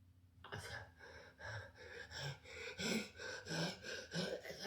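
A man imitates heavy, exhausted breathing, rasping in-and-out gasps and snorts in a steady rhythm of about one breath per half second, loud and close with no other speech.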